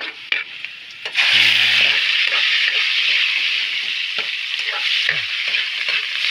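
Fish liver and roe, from a dalag or talusog, hit a hot pan with a sudden loud sizzle that settles into a steady frying hiss, broken by occasional stirring scrapes.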